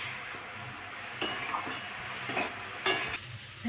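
Food fries and is stirred in a pan, with a soft background sizzle and several louder bursts of scraping and clinking as a utensil works through the pan.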